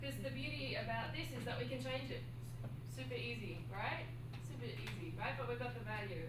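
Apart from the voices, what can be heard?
None of the usual background noises is heard.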